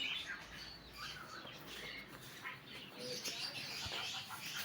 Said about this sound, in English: Look, the macaw, yellow and blue.